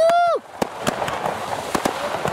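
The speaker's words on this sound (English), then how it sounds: "I love this fireworks spectacular for New Year's Eve" New Year's Eve fireworks exploding over the Las Vegas Strip, with several sharp booms spaced irregularly through a noisy crowd, after a rising whistle or whoop at the start; cheering voices carry on beneath the bangs.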